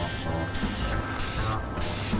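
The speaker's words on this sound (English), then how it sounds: "my project assistant, Terry, is going to do the spray painting for me" Spray paint hisses onto a computer case being turned into a TARDIS, three close steady bursts with short gaps between them.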